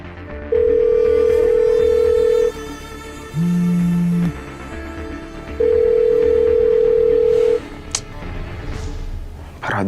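An unanswered phone call in an Indonesian drama: loud, steady ringback tones repeat three times in long even bursts, alternating higher and lower pitch, with soft background music between them.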